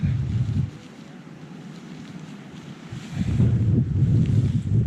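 Wind gusts across a microphone outdoors on a rain-soaked trail, a low rumbling buffet that drops briefly and then surges stronger near the end, with no speech.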